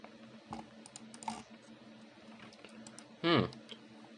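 Faint, sparse keystrokes on a computer keyboard, a few soft clicks and one louder burst of quick typing, with speech in the background.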